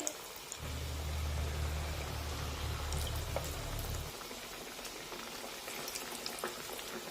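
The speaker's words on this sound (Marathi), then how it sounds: "मध्यम आशेवर हे सर्व वडे आपण तळून घेऊ तेलामध्ये" Masoor dal vadas fry in oil over a medium flame, a steady, fairly quiet crackle with a low hum in the first few seconds and a few faint clicks.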